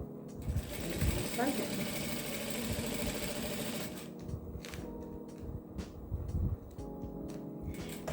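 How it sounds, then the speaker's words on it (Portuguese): A sewing machine stitches plastic slowly for a baby clothes organizer, giving a steady mechanical whirr that stops and starts in the second half, with someone speaking briefly over it. "E vamos costurando bem devagarzinho, segurando bem aqui, para evitar do plástico escorregar."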